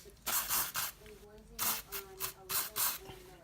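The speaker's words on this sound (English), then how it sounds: "I'll give that a little wipe with a towel, and then a bit of a rinse with the carb cleaner" Carb cleaner sprayed onto a part in a workshop, heard as a series of short, loud hissing bursts in an uneven rhythm over a low steady hum.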